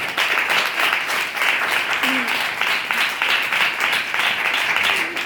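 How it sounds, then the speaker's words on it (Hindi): Loud, sustained applause from a congregation at a Good Friday church meeting, dense clapping filling the whole stretch without a break, close and steady, with faint voices mixed in beneath it. "जोरदार तालियां।"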